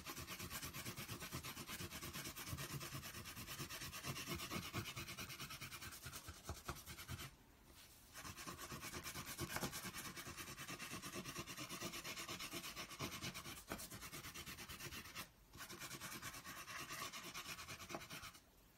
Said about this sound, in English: start to rub over the top of your leaf